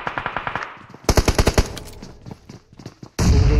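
AKM rifle fire in the mobile shooter BGMI: a quick burst of about seven evenly spaced shots, a short pause, then a louder burst of five or six rapid shots, followed by scattered fainter reports and a sudden thump.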